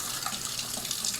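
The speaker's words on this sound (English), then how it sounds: "I'm turning the hot water on, and I'm just going to let the hot water run until it turns cold." Hot water pours steadily from an RV sink faucet, a continuous close hiss and splash of running water with no pauses.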